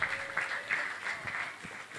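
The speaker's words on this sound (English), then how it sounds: "Can we please have a huge round of applause?" Audience applause at a nerd night talk, a soft, fairly distant patter of clapping with a few louder bursts, faint and brief, with no clear speech.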